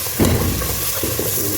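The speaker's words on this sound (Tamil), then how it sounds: "இது அப்படியே வதங்கட்டும்" Ginger garlic paste sizzles and sautés in a hot pan while biryani is being cooked, a steady close frying hiss with a few louder bursts as it is stirred.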